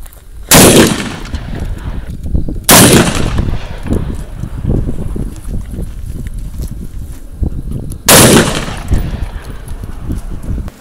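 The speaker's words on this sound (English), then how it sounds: "So we actually took a shot through this door." Three loud, sharp 6.5 Creedmoor rifle shots firing Hornady 147 grain match ammunition into a car, spaced a few seconds apart outdoors, each followed by a brief echo and background rustle.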